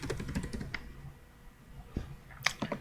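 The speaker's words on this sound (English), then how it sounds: "we're going to type in photographers" Quiet, close keystrokes on a computer keyboard: a short run of soft clicks, a pause, then a few more taps.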